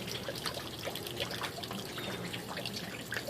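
Water draining out of the propeller of a Yamaha 250 HPDI outboard motor after flushing, a steady close trickle and splatter with small drips, continuous and without talk.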